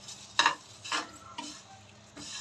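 Bay leaves and mace roasting in a little oil, with a few distinct stirring scrapes at intervals over a faint sizzle.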